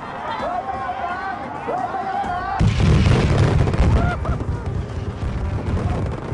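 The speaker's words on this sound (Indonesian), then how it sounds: "menawarkan kemeriahan dari ledakan petasan" Sharp bursts of firecrackers crackle and pop amid a noisy crowd, with a dense loud barrage erupting midway and voices cheering throughout.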